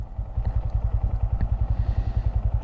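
A Honda Grom motorcycle riding through a roundabout, its small engine thumping in a fast, even pulse up close, steady and loud throughout.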